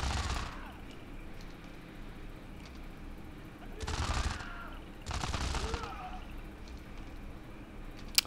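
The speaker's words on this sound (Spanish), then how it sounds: "Me gusta cómo se escuchan los disparos." Bursts of rapid automatic gunfire crackle in a shooter video game, a quick volley at the start and two longer sustained bursts later, moderately loud over a low background hum.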